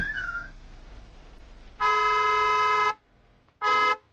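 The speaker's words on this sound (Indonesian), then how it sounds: "Di pusat kota tidak boleh membunyikan klakson." Car horn honking on a city street: two loud, flat blasts, one held about a second, then a short pause and a briefer second toot, with faint background noise between.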